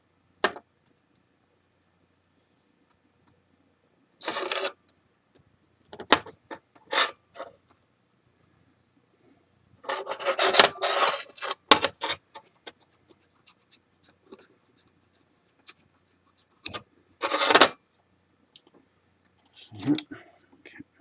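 Lacquer being rubbed off a cracked ceramic piece for traditional kintsugi, intermittent close scratchy rubbing strokes in short bursts separated by near silence.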